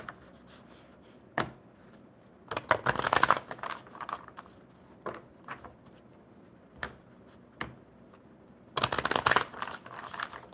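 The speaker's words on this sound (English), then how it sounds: "One more good shuffle for Amanda." A deck of playing cards is shuffled at a live card-reading session: several short, crisp riffling bursts, the longer ones near the start and end, separated by quiet gaps at modest, close-up volume.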